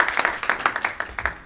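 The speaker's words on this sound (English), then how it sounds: "let us give a round of applause to the member of Congress here." Applause from an audience at a congressional awards presentation on energy innovations and diversity, honoring a member of Congress; a short, moderately loud burst of scattered clapping with distinct individual claps, no voices.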